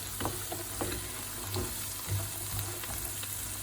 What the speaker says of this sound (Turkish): Biraz da havuçlarla kavrulsun.